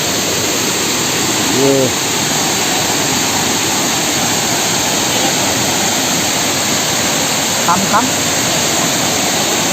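Waterfall at a picnic spot in Karbi Anglong, Assam, roaring as a loud, unbroken wash of water that fills the whole scene, with brief voices talking over it.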